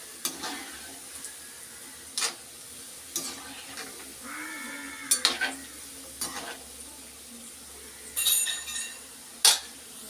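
Gulab jamun dough balls fry in hot oil, a faint, continuous sizzle broken by scattered sharp clinks and scrapes from stirring in the pan.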